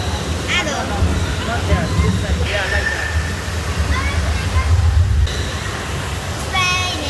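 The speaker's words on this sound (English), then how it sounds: "It is actually raining." Indoor rainforest rain shower at The Green Planet Dubai, a steady loud hiss of falling water that continues under a crowd's babble, with people talking nearby and brief bird-like chirps.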